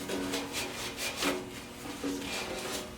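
Cloth rubbed back and forth over a motorcycle part with wax and grease remover, repeated close scrubbing and rubbing strokes at a steady rhythm, fairly quiet.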